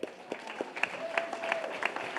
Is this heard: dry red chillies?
no